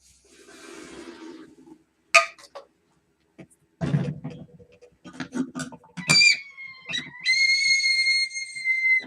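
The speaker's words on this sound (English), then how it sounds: "it's forcing air through this tiny little whistle end at the very top" A teapot charged with liquid nitrogen lets out a shrill, steady whistle with a slight pitch shift near the end, following scattered clinks, scrapes and hissing bursts.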